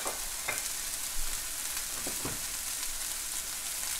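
Sliced baby portobello mushrooms hit hot oil in a pan, a steady broad sizzle with a few faint clinks and stirring knocks, no voices.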